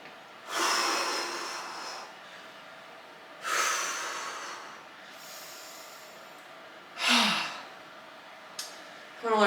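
Deep breathing during a faith-based total body workout, with three loud, close exhales of air spaced a few seconds apart and a quieter breath toward the end, with no talk.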